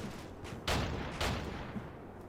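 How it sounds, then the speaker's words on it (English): Enemy artillery fire in the Combat Mission: Battle for Normandy war game, two muffled distant booms about half a second apart with a fainter thump after, under a low battlefield rumble. "That's enemy artillery incoming, but it's way off, so it doesn't matter."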